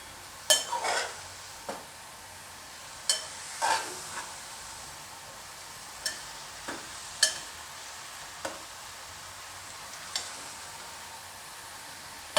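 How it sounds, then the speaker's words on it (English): Sliced onions fry in a pan beside bitter gourd, a faint steady sizzle broken by sharp scrapes and clinks of a utensil stirring at irregular intervals. "Fry nicely until you get the nice smell of onions."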